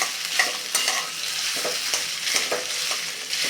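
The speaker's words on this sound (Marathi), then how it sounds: "त्यानंतर हा शिजवून घेतलेला भात घालायचा आहे मिक्स करून घ्यायचे" Cooked rice being stirred into hot ghee with whole spices in a pan for Maharashtrian sweet rice, giving a steady close sizzle with repeated scraping strokes of the spoon, no talking.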